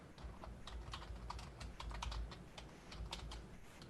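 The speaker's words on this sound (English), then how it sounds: "Typing the name." Quick, uneven clatter of typing on a computer keyboard, close and quiet, with bursts of keystrokes and short pauses.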